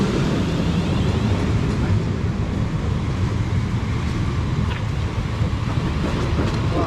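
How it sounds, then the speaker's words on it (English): A late-running passenger train pulls into a station platform on the Southampton to Lymington line, a continuous low rumble with wind buffeting the microphone, steady and fairly loud throughout with no voices. "arriving now is the 12:06 service to Bournemouth, running 21 minutes late"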